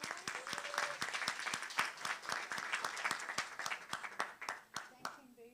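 Scattered claps from a modest audience at a learning and teaching event, crisp separate hand strikes in a loose, uneven rhythm, soft and somewhat distant, with faint murmuring underneath toward the end.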